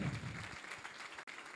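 An audience at an evening event breaks into brief applause, a short burst of many hands clapping that stays fairly even for under two seconds.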